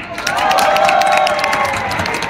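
Audience applause rises at a Romanian folk ensemble performance, a dense steady patter of many hands clapping with faint crowd murmur underneath, filling the space without pause.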